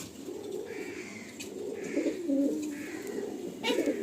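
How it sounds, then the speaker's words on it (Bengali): Madrasi pigeons, including a female of a breeding pair, give soft repeated low coos in a steady rhythm, close by, with faint higher chirps between them. "ফিমেল পায়রা"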